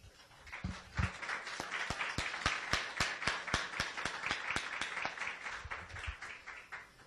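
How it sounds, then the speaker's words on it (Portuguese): A church congregation applauding during a sermon, a steady run of fairly faint, evenly spaced claps that swells briefly and continues for several seconds without voices. "Vamos dar uma salva de palmas para essa palavra?"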